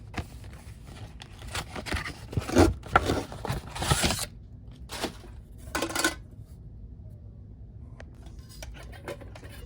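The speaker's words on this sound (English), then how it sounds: "And I bought this disc strainer" Light metal pieces of a Trangia 27-8 stove kit, including a thin disc strainer, clatter and scrape as they are handled, with a busy burst of clinks early on, then sparse taps and rattles close by, no talk.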